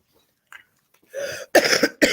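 A person clears their throat and then coughs, two harsh close-up bursts after a quiet start, with no talking.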